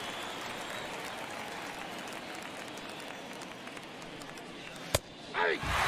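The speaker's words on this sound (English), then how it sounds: "the crowd getting fired up here at Citi Field" Stadium crowd noise at Citi Field in MLB The Show 22, a Phillies at Mets NLCS game: a steady, loud, dense roar of cheering throughout, with a sharp crack near the end and a brief swelling burst after it.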